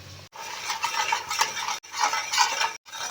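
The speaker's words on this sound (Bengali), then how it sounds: "আদা, শুকনো লঙ্কা আর কাঁচা লঙ্কা বাটার পেস্টটা এর মধ্যে দিয়ে দেব। মশলাটা কিছুক্ষণ ভেজে নেব।" A paste of ginger, dried red chili and green chili fries in a pan for a raw-mango and snakehead fish dish. It sounds like busy crackling and stirring in bursts, broken by brief silent gaps.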